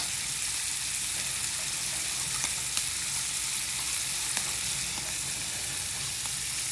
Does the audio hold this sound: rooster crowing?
no